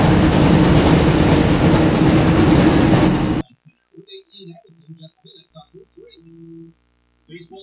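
A loud, dense rumble of a train hitting the car in the PS1 game Harry Potter and the Chamber of Secrets dominates for a few seconds, then cuts off abruptly, leaving quiet scattered game sounds.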